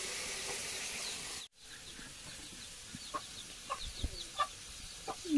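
A chicken wandering into a house gives scattered soft clucks, growing more frequent toward the end, faint and close in a quiet room after a brief hiss at the start.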